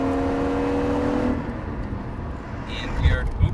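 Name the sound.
Lexus IS300 SportCross engine hitting the rev limiter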